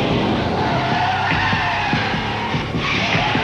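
A 1986 BMW 528e sedan brakes hard with its anti-lock brakes, tires skidding and squealing loudly and continuously over a steady engine and road roar, with no talk.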